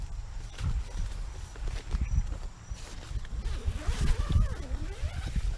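Zipper drawn open on a fabric hunting blind for deer, a rasping pull amid rustling and shuffling movement close by, with no talk.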